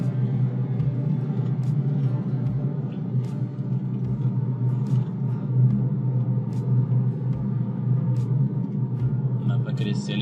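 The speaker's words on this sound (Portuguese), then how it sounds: "a gente vai dar uma puxada um pouco mais forte, só para sentir o carro um pouquinho em questão de curva" Fiat Fastback Impetus 1.0 turbo with CVT7 automatic, 2023, pulling hard as the driver accelerates, a steady loud engine and road rumble throughout with periodic low thumps, under occasional cabin talk.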